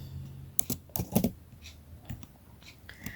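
Fingers type a spreadsheet formula on a computer keyboard in short bursts of clicky keystrokes, close and fairly loud, separated by brief pauses, with no talking.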